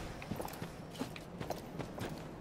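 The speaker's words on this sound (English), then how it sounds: "That sounds like a horse." A horse's hooves clip-clop at a steady walking rhythm in the Dark Souls 3 video game, moderately close, with faint game ambience underneath.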